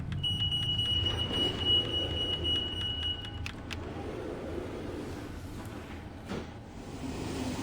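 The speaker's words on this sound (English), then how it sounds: "The incessant beeping you will hear." Incessant electronic beeping alarm from an Exit 8 clone video game, a steady high-pitched tone repeating for the first few seconds over a low rumbling background, then fading under ambient hum.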